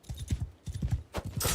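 Horse hooves gallop in Mount and Blade II: Bannerlord, a quick, steady rhythm of close, loud hoofbeats with no talking.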